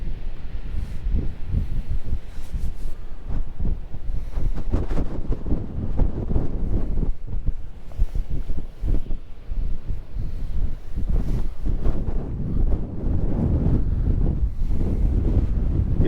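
Strong wind buffets the microphone on the Assateague Island National Seashore beach while rough, choppy ocean surf roars nearby, a loud continuous rumble with gusty surges and no talking.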